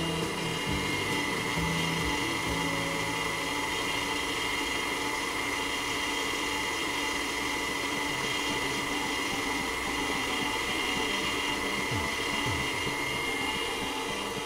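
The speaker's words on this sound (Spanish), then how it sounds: "Volvemos a subir el volumen de nuestra batidora para que se vuelva a incorporar el azúcar" An electric mixer at high speed beats sugar into a sponge cake batter, giving a steady, unbroken motor whine with faint rattling, moderately quiet and alone throughout.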